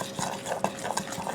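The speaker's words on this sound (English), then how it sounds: "Just stir this glaze up." A spoon stirs strawberry glaze with soft, close scraping and light clinking in a quick, uneven rhythm.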